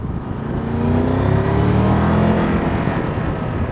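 A Triumph Tiger 1200 GT Pro motorcycle engine with its throttle in sport mode, giving a steady, moderately loud rising drone with harmonic tones that swell around the middle and then settle, with no talking.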